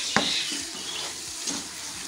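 Cooking syrup with pistachios and almonds being stirred for ladoo, a low bubbling sizzle with a couple of sharp spoon scrapes against the pan, close and fairly quiet.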